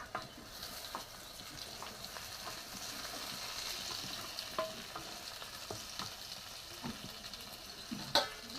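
Eggplant with green chili stir-fries in a pan, continuous sizzling under repeated scraping and stirring strokes, with a sharp utensil clack near the end and no voices.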